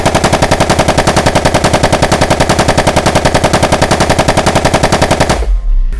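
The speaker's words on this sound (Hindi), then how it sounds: "रात के सन्नाटे में बरसाती नाले के करीब गोलियां चलने की आवाज़ें गूंजने लगीं।" Rapid, evenly spaced bursts of automatic gunfire rattle loud and close for several seconds, then cut off abruptly into a brief low rumble.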